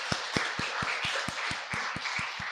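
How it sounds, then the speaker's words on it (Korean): Steady rhythmic clapping from a church congregation during a Sunday worship service, about a dozen even beats in a row at a brisk pace, filling the room with a bright, roomy sound. "격려하면서 박수하겠습니다"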